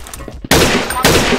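Gunfire in Blockade Classic, the blocky multiplayer shooter: a dense, loud burst of shots starts abruptly partway through and keeps rattling, with a second surge near the end, with no talk over it.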